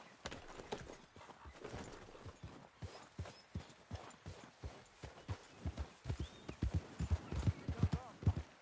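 A horse's hooves clip-clop at a rhythmic, quickening pace on a trail in the video game Red Dead Redemption 2, the beats growing louder and faster toward the end, with a voice speaking over them.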